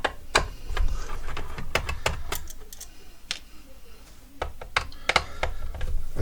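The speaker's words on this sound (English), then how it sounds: "Let's remove the screws over here." Small screws are taken out of a Harman Kardon HK6650R receiver, giving sharp, irregular clicks and ticks of metal and tool against the chassis. The sounds are close and moderately loud, with a few brief pauses between them.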